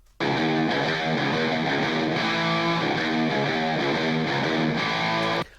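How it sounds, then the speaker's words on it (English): A heavily distorted electric guitar plays chugging, rhythmic chords, loud and saturated, starting abruptly and cutting off cleanly after about five seconds. "I would have never cut these guitars with this much distortion"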